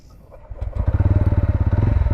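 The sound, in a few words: TVS Ronin 225 motorcycle engine starting with one touch start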